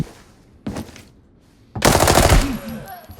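Gunfire in the video game Arena Breakout: a short loud burst, a pause, then a longer rapid automatic volley with crisp repeated cracks and a ringing tail, loud and close.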